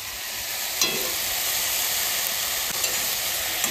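Oil sizzles loudly and continuously in a pan of frying greens with shrimp as fresh chillies go in, with a few light clinks of stirring cutting through the steady crackle.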